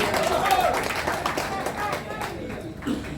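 Audience clapping for women at a labour-related talk, a moderate burst of applause mixed with crowd voices and cheers, gradually thinning out.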